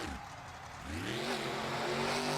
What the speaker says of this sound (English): Drifting around the track here